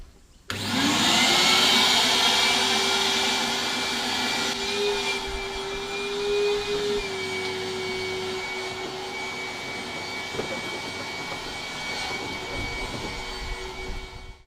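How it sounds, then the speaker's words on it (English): A vacuum cleaner runs while cleaning out a vintage New Holland Super 69 Hayliner hay baler, starting abruptly with a loud steady whine and hiss that gradually eases as debris rattles through the hose. "I'll quickly vacuum this out"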